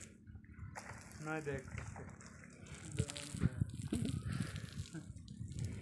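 Water is sprayed onto a house under construction, a hissing, splashing flow in uneven bursts, heard close behind people talking.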